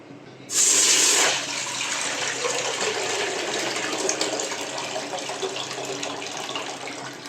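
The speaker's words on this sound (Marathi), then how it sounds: "तर आता ह्याच्यामध्ये आपण पाणी घालून घेऊया." Water pours into a cooking pot, opening with a loud splashing gush that settles into a steady, close stream filling the vessel, with no talk.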